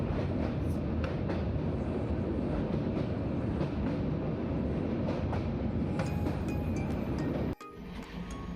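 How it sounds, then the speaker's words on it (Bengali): A sleeper coach passenger train runs with a steady, loud rumble and rail noise heard from inside, continuing throughout with a brief drop near the end. "তোমরা যে ট্রেনটা দেখছো, এটা কোনো লোকাল ট্রেন নয়, এটা ছিল আমাদের স্লিপার কোচ।"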